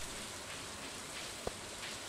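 Steady, soft patter of rain in Stardew Valley on a spring night, an even wash of drops with no talking.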